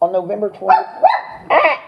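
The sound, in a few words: dog barking indoors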